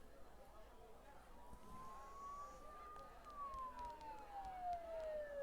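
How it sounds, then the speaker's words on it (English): A police siren in the video game Persona 4 Golden wails from a distance, rising then falling in a slow sweep over a low ambient hum. "Don't those sirens sound really close?"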